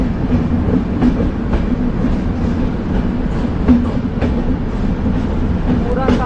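A train rumbles steadily with rhythmic wheel clatter inside a 500-metre tunnel on the Bengaluru to Subramanya line, echoing, the noise constant and close throughout.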